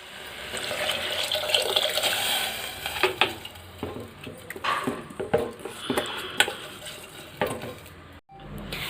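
Water runs and splashes into a cooking pot while making aloo tahiri, a potato and rice dish, with a steady pouring wash and a few clinks and stirring knocks. It is close and moderately loud, with no talk.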